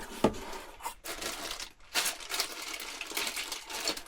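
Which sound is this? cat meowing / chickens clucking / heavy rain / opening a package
opening a package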